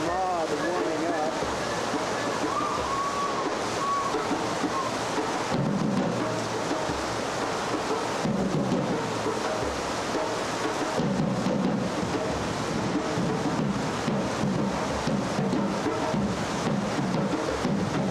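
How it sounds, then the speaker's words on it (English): Heavy rain pouring onto an outdoor concert stage before a benefit show, a dense continuous roar with rumbling gusts, loud throughout with voices talking underneath. "starting to piss rain right on stage, and it's 20 minutes past 6."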